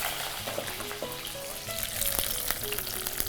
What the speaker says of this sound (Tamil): வெங்காயத்தை போட்டு நம்ம நல்லா வதக்கிறோம்